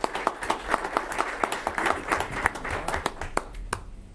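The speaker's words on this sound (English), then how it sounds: "We'll give you a hand of applause." Audience applause at a county commission board meeting, sparse and uneven individual claps from a modest-sized group in a hall, fairly quiet and tapering off toward the end.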